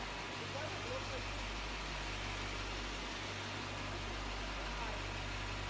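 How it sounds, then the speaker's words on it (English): A parked SUV sits at the roadside with its engine running, a steady low idle hum under a broad wash of noise, continuous and unchanging. "police in Bratenahl noticed an SUV parked on the side of the road with its engine running"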